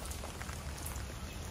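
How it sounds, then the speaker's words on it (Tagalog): Heavy rain pouring steadily on a rural planted plot in the morning, a dense continuous hiss at close range with no voices. "ayan po yung ulan, oh. Lakas."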